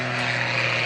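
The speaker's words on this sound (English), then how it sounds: "In the airplane, he's spinning wildly overhead." Propeller aerobatic airplane spinning overhead at the 2015 Cleveland air show, a loud, steady engine drone with a low hum, close and continuous with no talk.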